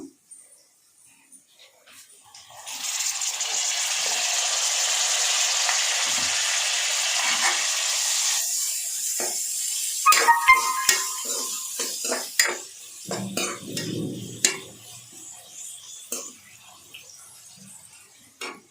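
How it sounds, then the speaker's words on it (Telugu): Onion and tomato frying in a pan: a loud sizzle bursts in and holds for several seconds, then fades into scattered clinks and scrapes of a spoon stirring against the pan. "టమాటా కూడా బాగా ఫ్రై చేసుకోండి"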